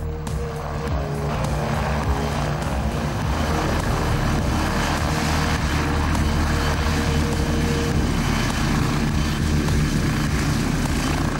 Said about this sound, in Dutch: Een mobiel medisch team wordt door een helikopter van de ANWB Medical Air Assistance ingevlogen